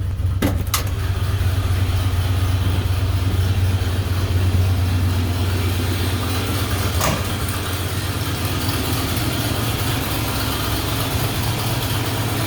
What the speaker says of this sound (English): the fast idle on the choke sets when you depress the pedal